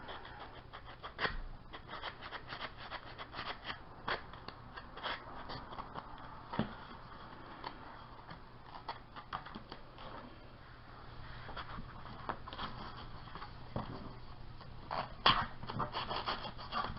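Sandpaper rubs over a small wooden elf foot for a Christmas spinning tray, making a soft, continuous scratchy rasp with irregular strokes, fairly faint and close, with no voices.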